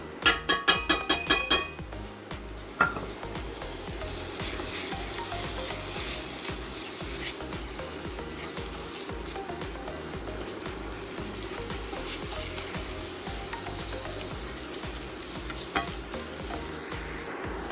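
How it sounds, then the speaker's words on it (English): Rice browning in a skillet after onions and beef have been taken out, giving a steady, loud sizzle and frying hiss for most of the clip. A few sharp clicks and a stirring scrape come at the start, and no one speaks. "Now we're going to brown our rice."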